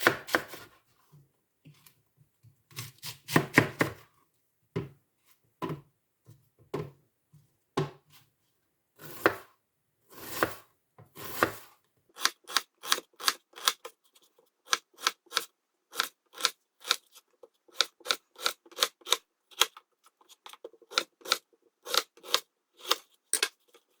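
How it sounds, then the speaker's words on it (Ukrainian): A knife chops an onion into half-rings on a board, heard up close as crisp cuts, first irregular and scattered, then a quicker, steady rhythm of strokes with no talking. "наріжемо нашу цибулю на полукольця"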